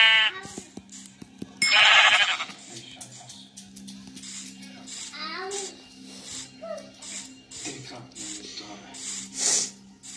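Sheep bleating in the Craftsman building game: a couple of short, bright bleats stand out over a low steady game hum, with a voice talking in between.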